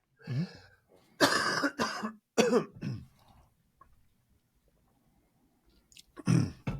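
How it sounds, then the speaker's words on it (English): A person clears their throat several times in harsh, rasping bursts, with short pauses between, followed by quiet and one final rough clearing. "I need to clear my throat."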